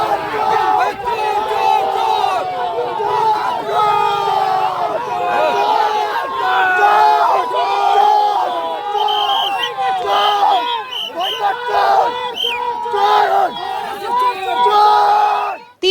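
Municipal sanitation workers protesting unpaid wages outside the Jalpaiguri municipality, a loud crowd chanting and shouting slogans continuously, with overlapping voices rising and falling throughout.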